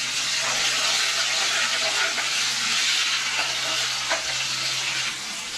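Water goes into light pink onions frying in a pan for aloo gobi. It raises a loud, steady sizzle and hiss with a few soft stirring scrapes, and it continues unbroken with no voice over it.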